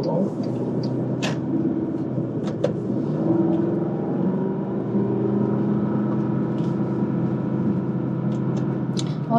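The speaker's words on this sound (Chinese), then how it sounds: "我头一回坐一个车能听见发动机声音" Inside the cabin of a Bentley Continental GT on a mountain road, a smooth engine drones steadily beneath people talking, with faint interior clicks and knocks scattered throughout.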